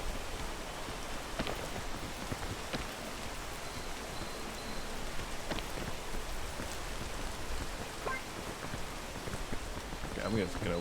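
Rain in the video game PEAK falls as a steady, moderately quiet hiss of drops with scattered sharper ticks. It continues unbroken throughout.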